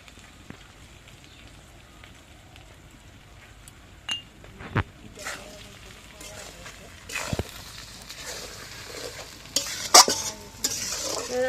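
Green chili pickle sizzles gently in a pan while a spoon stirs it, scraping and clinking against the metal in irregular bursts that grow busier and louder toward the end.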